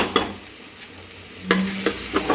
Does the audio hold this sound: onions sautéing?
yes